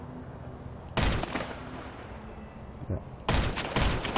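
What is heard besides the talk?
gunshots in the GTA 5 Online video game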